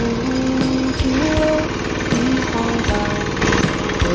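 A motorcycle-based farm machine's engine runs steadily and loud while driving into a field, with a rapid, rough knocking beat throughout and no talk.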